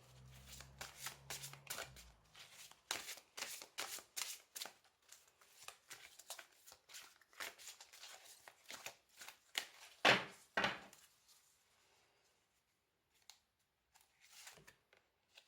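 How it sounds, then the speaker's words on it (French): Tarot cards being shuffled by hand, a long run of quick papery riffles and flutters, close and fairly soft, thinning into a few isolated card flicks near the end with no talking. "Je vais vous tirer une dernière carte avec le message de l'esprit"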